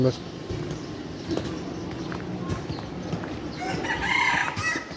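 Chickens kept at a house give short clucks and a brief crowing call. Voices talk over them and footsteps move through the area, so the birds sit partly in the background.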